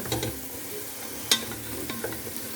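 Sautéing in melted butter in a cocotte as the base of a tomato sauce for meatballs, a steady moderate sizzle broken by scraping spoon strokes and one sharp clink against the pot.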